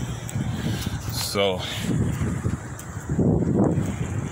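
Strong wind gusts roar outdoors at Camp Gospel, buffeting the microphone with continuous rumbling noise while someone speaks briefly over it.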